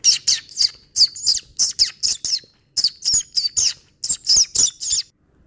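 High, rapid chirps from baby crows in short repeated bursts with brief pauses, close and fairly loud, no talking.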